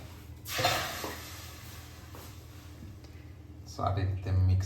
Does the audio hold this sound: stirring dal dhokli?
yes